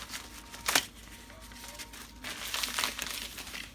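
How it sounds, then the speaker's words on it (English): A shipping package holding go-kart engine parts is cut open and its contents dumped out, giving sharp crinkling plastic and paper rustles at close range, one brief burst followed by a longer rustling stretch. "Got another package here. Cut this one open. Dump this one out."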